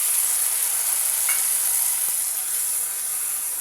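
Ground spices fry in oil in a pan for a vegetarian ghonto, producing an even, steady sizzling hiss throughout with only faint stirring underneath.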